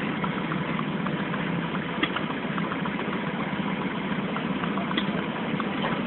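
A vintage machine engine with chain drive runs at a steady idle-like chug while creeping along, continuous and even, moderately near and fairly quiet, with no talking.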